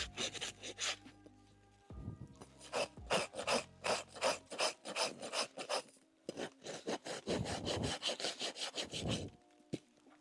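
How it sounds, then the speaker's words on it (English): A farrier's rasp files a horse hoof around the bolt and seat of corn during a hoof cast job, giving repeated rough scraping strokes in steady bursts, close and fairly loud, with no talking. "I'm just going to use my rasp to tidy up the area around the bolt,"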